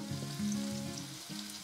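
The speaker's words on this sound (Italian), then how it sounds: "Sfrigolamento! Sentite che bel rumorino." Food fries in a pan with a close, steady crackling sizzle throughout, alongside a soft tonal hum in the background.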